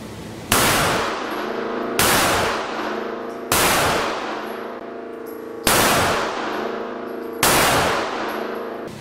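Browning Hi Power pistol firing Blazer brass 115-grain rounds: five loud, close single shots spaced about two seconds apart, each with a long ringing decay outdoors, with no talk.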